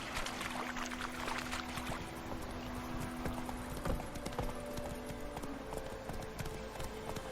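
Continuous rapid hoofbeats of the horse Roach galloping in The Witcher 3, a steady near clatter over a rushing game background.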